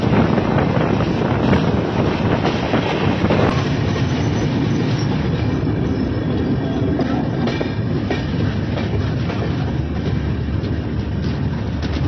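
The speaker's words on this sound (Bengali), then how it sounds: "এখানে এখন নন স্টপ ট্রেন চলবে" The Uttar Banga Express runs nonstop at speed, a loud continuous rumble and rattle of the train carriages with steady wind roar and faint clickety-clack throughout.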